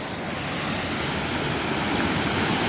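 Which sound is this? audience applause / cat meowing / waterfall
waterfall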